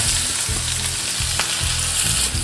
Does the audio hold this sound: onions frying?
yes